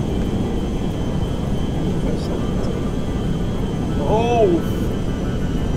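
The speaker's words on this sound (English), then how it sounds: "I'm in a fucking plane!" Steady airplane engine drone in GTA FiveM role-play, a continuous even roar from inside the plane, with a brief exclamation from a player near the end.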